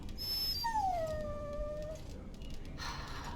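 A dog in the video game Dragon Age Origins gives a drawn-out, high whimpering whine that slides downward and fades, heard close over low game ambience.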